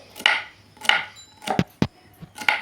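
A knife chops fresh okra (bhindi) on a board outdoors, giving about six sharp, close cuts at uneven intervals with faint background noise.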